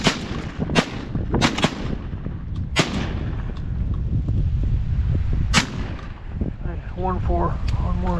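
Shotguns fire at a group of ducks on a New Year's Day duck hunt: several sharp, booming blasts spaced irregularly, with wind noise, ducks quacking near the end and people talking.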